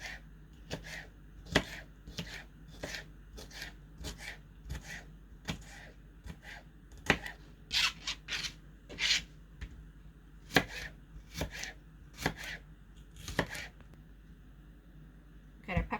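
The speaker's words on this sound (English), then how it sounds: "I got some of the pepper already cut up, and I'll continue to cut this." A knife chops peppers steadily on a cutting board, sharp regular knocks with a few pauses, close up and fairly quiet.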